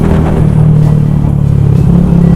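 A Yamaha YZF R125 125cc motorcycle engine holds a steady, loud, close rumbling rev that stays even throughout without a voice over it.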